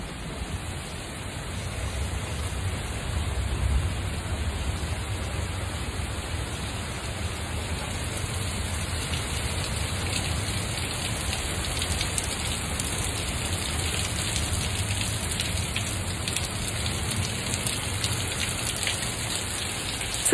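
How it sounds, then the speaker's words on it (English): Steady rain pours down continuously, a dense even hiss of drops hitting surfaces with a low rumble underneath, no voices. "It's raining."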